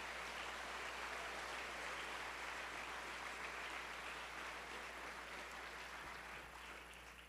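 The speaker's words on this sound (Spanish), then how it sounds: "Da un aplauso al Rey ahora sí." Steady, even applause from a church congregation fills the space, a continuous wash of clapping that holds for several seconds before easing slightly.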